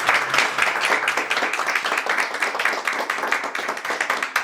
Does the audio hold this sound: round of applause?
yes